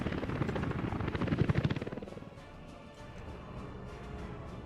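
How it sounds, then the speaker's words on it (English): Helicopters fly in the city-building video game Workers and Resources, a loud rhythmic rotor chop that fades after two seconds into a softer steady engine drone. "I'm glad we bought those extra 8 helicopters."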